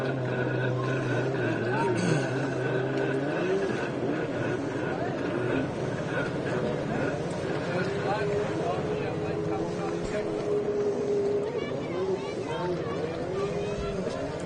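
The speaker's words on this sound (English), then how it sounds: "Love to see these factory jet skis racing." Factory jet skis race at a Paris, Texas event, a continuous droning whine of engines carrying steadily across the water over the full stretch, with an announcer talking over it.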